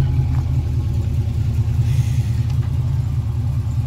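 A loud, modified Pontiac GTO engine holds a steady, deep rumble close by, idling evenly with no clear revs.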